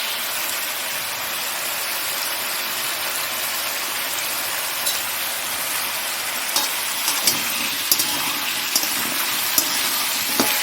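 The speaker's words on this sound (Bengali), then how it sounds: "মেথি ফোড়ন আর শুকনো লঙ্কা ফোড়ন দিয়ে দিচ্ছি, দিয়ে আলু আর কাঁচা লঙ্কা দিয়ে দিচ্ছি।" Potatoes and green chilies hiss loudly in a wok over a tempering of fenugreek seeds and dried red chili, a steady close sizzle with scattered pops and crackles near the end.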